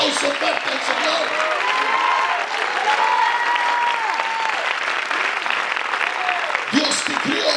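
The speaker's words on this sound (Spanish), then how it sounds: "dale un aplauso fuerte al Señor." A church congregation at a bilingual service applauds loudly, sustained dense clapping filling the room throughout with voices mixed in, easing briefly near the end.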